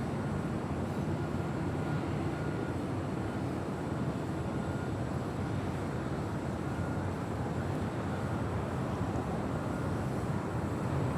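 A Southwest Airlines Boeing 737-800 at LAX, its jet engines producing a steady, constant roar that holds level throughout, heard from a distance with no talk.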